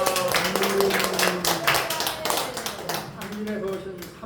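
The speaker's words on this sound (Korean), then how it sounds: "하나님께 영광 박수 올려드리겠습니다." Congregation clapping in a church gathering, a dense run of many hands striking together throughout, with a voice speaking over it.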